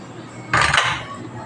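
A short metallic clank against a cooking pot as taro leaves go into coconut milk for the Filipino dish laing, a single brief clatter over quiet kitchen background.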